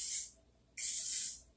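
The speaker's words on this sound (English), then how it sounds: "you brush it out and hit with a little spray" Hair spray misted onto long, freshly brushed hair: two close, loud hissing bursts from an aerosol can, the first short, then a brief pause and a longer second spray.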